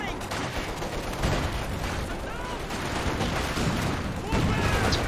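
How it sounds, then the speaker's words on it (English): Gunfire cutting down assault grenadiers in a real-time strategy match, a thick, steady rattle of small-arms fire and battle noise with louder swells, continuous over its length. "Assault grenadier is getting gunned down here, trying to get off a grenade"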